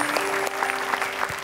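Short burst of audience applause at an Indonesian stage show: steady crowd clapping over a held background tone, brief and fairly even in loudness.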